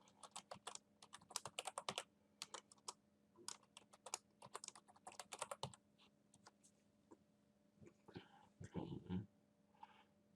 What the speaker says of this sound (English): You will need to type in a password here